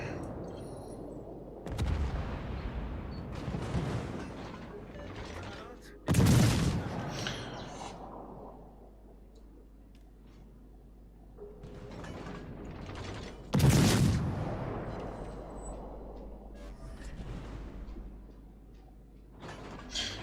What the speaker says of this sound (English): I would just keep shooting high explosive shells in the Königsberg.